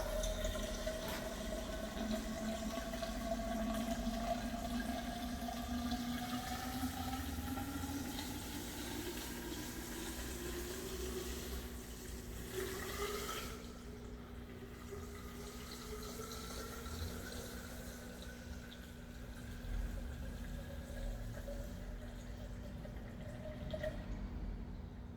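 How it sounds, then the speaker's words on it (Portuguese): Tap water runs steadily into a one-litre container, the pitch rising gradually as it fills, with a brief break partway through before the flow continues, heard close and without talk. "Então vamos colocar aqui na torneira. Eu vou colocar 1 litro de água"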